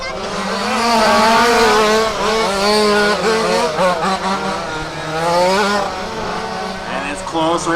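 Race cars at a RAMS WCC event at Warm Springs pulling away from the grid together, engines loud and rising through the gears, close and continuous with overlapping revs.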